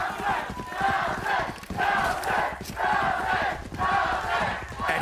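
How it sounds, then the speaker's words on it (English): An arena crowd at a Valorant esports match between Sentinels and Cloud9 cheers a clutch play, with loud, sustained roaring in rhythmic waves and voices blending into the din. "The crowd cheering him on."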